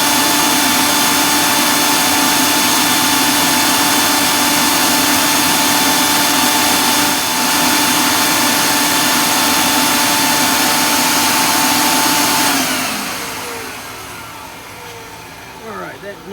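A dust collector in a woodturning shop gives a loud, steady machine roar for about twelve seconds with a constant whine, then winds down and fades to a quieter hum.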